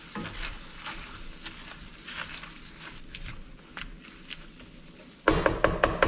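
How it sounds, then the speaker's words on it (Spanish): Refried beans in lard being mashed in a pan, soft steady sizzling with scraping and stirring strokes, then a louder burst of crackling frying near the end; no talking. "vamos a apachurrarlos para que se empiecen a refreír más y más"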